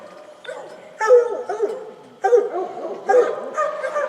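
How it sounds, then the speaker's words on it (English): Multiple dogs at a campground in the Elmwood Recreation Area bark and yip in repeated bursts, some close and loud, with whimpering between, several animals overlapping without pause. "I counted there's a minimum of 12 dogs"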